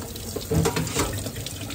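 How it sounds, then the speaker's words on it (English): Cold water running from a tap onto a peach held under it, a steady splashing rush that swells slightly midway. "Wash the peach with cold water."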